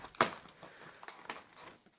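Plastic bag crinkling as chicken breast tenders are bagged for the freezer during kitchen meal prep, with one sharp rustle followed by quieter, scattered crinkles, close and fairly faint with no talking.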